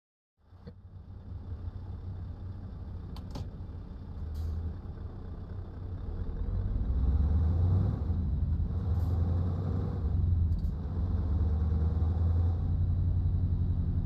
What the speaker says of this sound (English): Can you guys hear my truck okay?